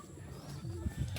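Soft, low pigeon coos repeat a few times in a short stretch, faint and somewhat distant over outdoor background noise in a fruit garden.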